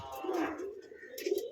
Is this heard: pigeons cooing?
yes